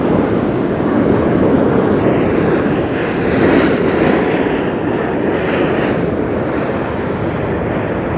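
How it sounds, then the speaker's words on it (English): A Southwest Airlines plane landing at Las Vegas Harry Reid International Airport gives a loud, continuous broadband engine roar that stays steady throughout, buffeted by wind noise on the microphone. "that flight that just landed right now was going to be Southwest Aerolíneas SWA"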